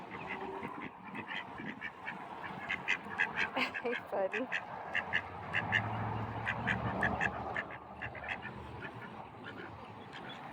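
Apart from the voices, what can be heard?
ducks quacking in park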